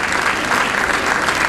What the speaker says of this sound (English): Please give yourselves a huge round of applause.